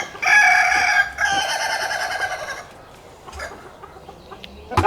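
A rooster crows loudly nearby, two long cock-a-doodle-doos back to back, followed by quieter clucking and farmyard background.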